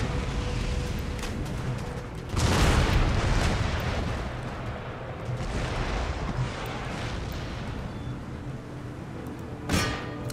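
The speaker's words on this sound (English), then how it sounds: "So these are the howitzer shots coming in." Incoming howitzer shells from an Empire: Total War battle against Prussian forces, heavy booming impacts, one large blast near the start and another near the end, over a constant rumble of battlefield noise.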